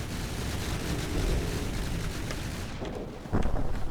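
Cram cannon shells exploding in an airship video game, a continuous rumbling barrage of booming blasts with a sharper burst near the end, loud and dense with no talking.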